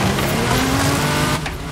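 Porsche sports car in the racing game Forza Horizon 5, a steady loud engine drone with tire noise running throughout, easing off slightly near the end.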